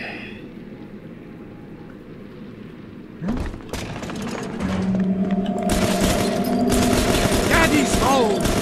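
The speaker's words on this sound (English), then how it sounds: "Okay, so we got ourselves a machine gun and a weapon upgrade." A machine gun in Bioshock 2 Remastered, set in Ryan Amusements, breaks out into dense rapid bursts after a quiet stretch, loud and continuous with booming impacts layered over the firing.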